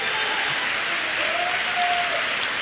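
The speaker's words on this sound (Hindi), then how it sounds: "उसके लिए आपके सम्मान में ताली बजनी चाहिए ताकि पूरे पंजाब को पता चले यहां पे तहलका मचने वाला है।" Steady, dense clapping from an audience at a Modicare business meeting in Punjab, an even wall of applause that continues without a break.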